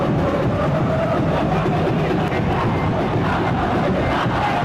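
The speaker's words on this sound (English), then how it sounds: "Crowd appreciates good football all round there." Stadium crowd noise in the PES 2021 football video game, a constant, loud roar of massed cheering and chanting that holds steady for the whole stretch with no commentary over it.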